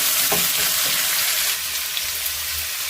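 Potato roast coated in masala fries in a pan and is stirred, giving a steady, close, fairly loud sizzling hiss with a few soft scrapes near the start.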